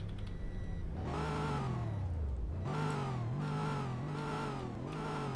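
A Toyota Tundra pickup's engine in the Roblox game Greenville revs up and down in repeated surges, a droning synthetic tone climbing in pitch, dropping, then swelling again several times, loud and alone.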